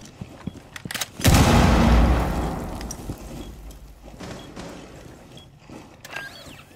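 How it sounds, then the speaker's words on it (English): A frag grenade detonates in a video game as a single loud, close boom with a long rumbling tail that fades over several seconds, followed by faint scattered game sounds. "Frag grenade out."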